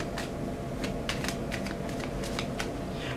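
Tarot love cards being shuffled by hand, a run of crisp riffling flutters and taps repeating irregularly over a steady low hum, close and fairly quiet, with no one speaking.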